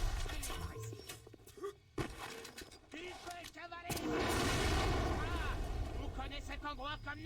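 Grenade blasts and gunfire burst out in the BioShock video game, loud and chaotic, with a sharp bang near two seconds and another explosion building into a sustained roar around four seconds, with game sounds all around.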